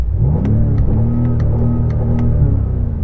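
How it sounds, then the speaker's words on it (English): A BMW M5 engine revs close by in a drag-race comparison, a loud deep rumble rising and holding with steady harmonic tones over three seconds. "And now rev up and try not to break it."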